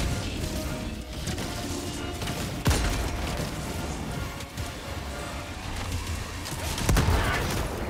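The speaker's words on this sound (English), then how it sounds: "You stepped on a landmine." A landmine blast in Helldivers 2 sounds as a sharp, loud burst partway through, amid dense ongoing game combat noise with gunfire and impacts, plus a second hit near the end.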